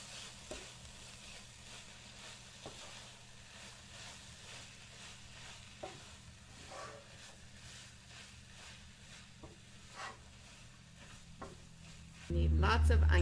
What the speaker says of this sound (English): We'll just give it another stir here real quick.